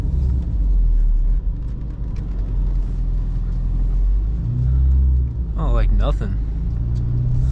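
Inside a BMW E39 driving through a blizzard, a steady low road and engine rumble continues throughout. A person speaks briefly partway through.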